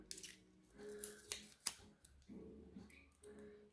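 A sealed pot of nail gel being opened by hand, with a few crisp clicks and a sharp snap of the seal breaking, close up over faint rustling.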